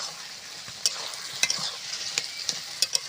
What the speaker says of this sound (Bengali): এইভাবে নাড়তে থাকবো নাড়তে নাড়তে এই জলটা পুরোটা শুকে যাবে